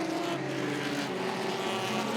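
Race cars, UCARs at Southern National on a racetrack, roar together in a loud, steady pack of engine drone that holds throughout without a break, near and dense.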